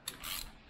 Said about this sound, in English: Yep, this is a ratchet.